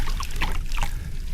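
Water trickles and drips steadily near a spot built from bamboo, a soft continuous dribble with small splashy accents, close and fairly quiet, no voices.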